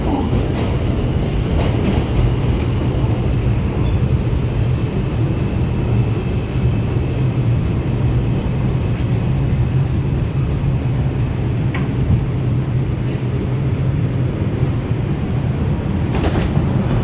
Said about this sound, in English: This is a Bronx-bound 5 local train.